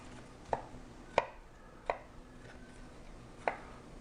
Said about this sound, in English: I think I'm just gonna chop this stuff up.